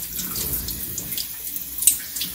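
Tap water runs steadily from a faucet to wet a dog before soaping, a continuous hiss and splash with small irregular spatters, close by and without talk.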